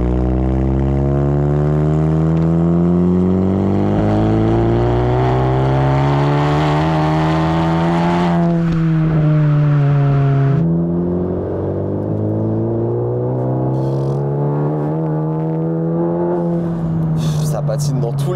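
A tuned Seat Leon Cupra Stage 4 revs hard with wheels spinning, the engine note climbing and holding loud and close, then dropping and climbing again, with voices faintly underneath.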